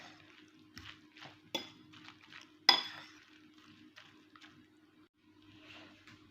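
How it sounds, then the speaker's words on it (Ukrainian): Soft scraping and light clinks of a fork stirring egg in a bowl, with a couple of sharper taps against the rim, close and fairly quiet. "Я це все також перемішаю з яйцем."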